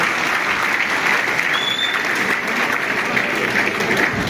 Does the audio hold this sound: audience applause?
yes